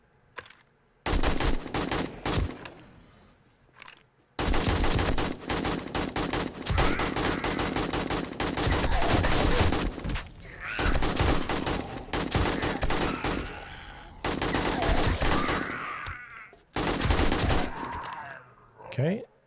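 AK rifle fire in a video game comes in long, loud automatic bursts with brief pauses between them, and people talk over and around the shooting.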